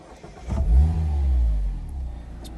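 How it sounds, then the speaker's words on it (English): A Mazda MX-5 2.0 Skyactiv-G with a push-button start fires up, a short crank catching into a rising rev before settling into a steady idle, close and alone. "press that starter button, and the car comes into life"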